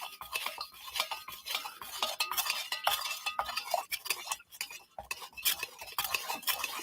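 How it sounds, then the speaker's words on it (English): A utensil stirs melted soy wax in a pot for candle making, giving a continuous close scraping and clinking with a quick, uneven rhythm and no talking. "Stir it and see if I can get it cooled down a little quicker"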